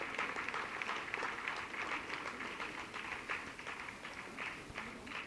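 Dense, steady applause from a large audience at a college foundation day ceremony, continuous clapping filling the whole stretch at an even, moderately loud level with no voices on top.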